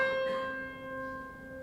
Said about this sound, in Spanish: Y la mitad de la cuerda suena así.